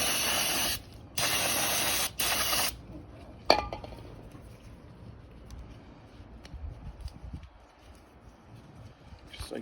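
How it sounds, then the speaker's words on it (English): Brake cleaner is sprayed onto Honda Civic brake hardware in three loud, close hissing bursts, followed by quieter clinks and handling noises. "spray it all down."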